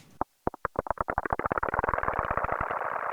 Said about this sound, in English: With the high resonance, we're starting to get those kind of pitchy, resonant, lasting decay tails